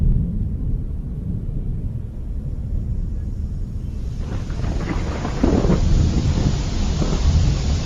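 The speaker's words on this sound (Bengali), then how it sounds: "এই রে, জোরে বৃষ্টি শুরু হয়ে গেল যে" Steady low rumbling wind, then a dense hiss of heavy rain swells in about halfway through and keeps roaring to the end, outdoors during rice harvesting.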